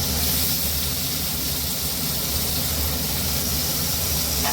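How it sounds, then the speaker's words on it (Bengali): Brinjal and potato pieces frying on high heat in oil in a pan, a steady loud sizzling hiss running continuously without pause, no talk. "জোরে 1-2 মিনিট ভেজে আমি এটাকে চাপা দিয়ে দেবো"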